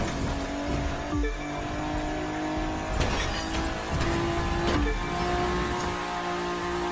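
Car racing in The Crew 2 during a Vegas trip: a steady engine drone runs throughout, with sharp tire squeals and brief skid bursts breaking in, and no talking.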